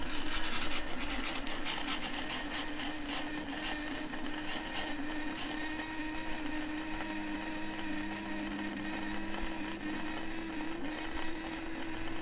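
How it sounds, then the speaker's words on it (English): Water spits and sputters from an RV hot water tap while the fresh water tank fills, a steady rough gushing with a low hum and irregular bursts of rattling noise over a dozen seconds. "And you'll get spitting and sputtering for 30 seconds to a minute"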